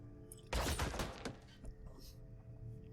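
Gunfire from units battling in the space strategy video game Stardrive, a sudden dense burst of rapid shots and thuds that holds for about a second and then fades into scattered softer impacts.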